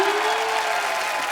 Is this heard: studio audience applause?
yes